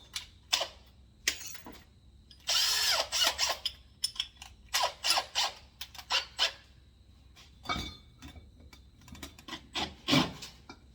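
Close-up drilling into metal on a VW Beetle front beam with a blunt hand-held drill bit: short grinding bursts of the bit biting in, separated by brief pauses, with one longer sustained run.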